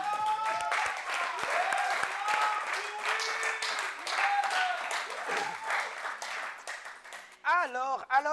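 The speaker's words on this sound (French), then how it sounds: "on a des bons candidats ce soir, on peut les applaudir quand même" Studio audience at a televised game show applauds the contestants, a dense, steady wash of clapping that runs loud for several seconds before a voice speaks over its tail end.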